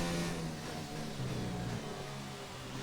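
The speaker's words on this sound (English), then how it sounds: "Heavy braking there." A Formula 1 race car in the F1 2019 video game, engine note dropping and shifting through tones as it brakes hard, a continuous steady whine and rumble, fairly quiet and with no talking.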